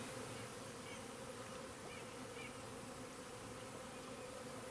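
Honey bees buzz inside an open hive during an inspection, a dense, steady hum of many insects close by, continuous and fairly quiet, with no talking.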